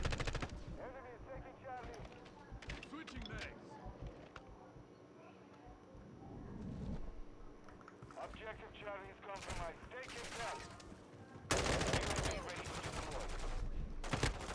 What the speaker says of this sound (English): I'm shooting three different people at the same time, all the time.